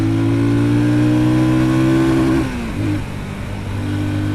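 A Sothassi Classic 400 retro motorcycle accelerates on a test ride, its steady loud engine drone rising in pitch, dipping briefly as the rider shifts, then pulling again close up.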